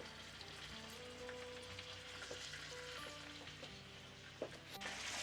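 Squid sizzles steadily as it is added to a hot pan, a constant soft crackle and hiss at low level with faint clinks and a brief louder knock near the end, no voices.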